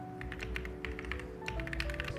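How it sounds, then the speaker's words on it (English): Steady typing on a computer keyboard while re-typing Great Expectations word for word, a fast run of close, crisp key clicks over a low background hum with no talk. "sound of the typing."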